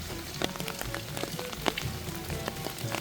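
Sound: continuous rain

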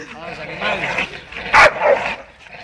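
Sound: dogs barking, pit bull versus Staffordshire terrier

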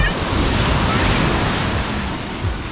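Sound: ocean waves breaking on a beach

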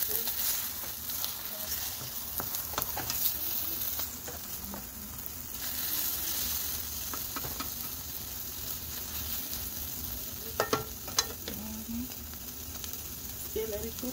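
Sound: food frying in a pan

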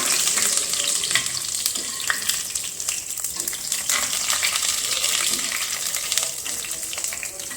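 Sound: garlic and ginger frying in oil

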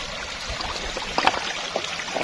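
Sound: stream water flowing over rocks

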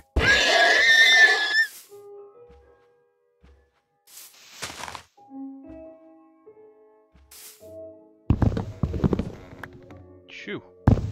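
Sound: horse neighing in Minecraft video game

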